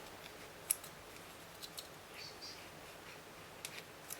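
Scissors give a few faint, quick snips while trimming sewing threads after machine-stitching buttons, scattered light clicks against a quiet room background.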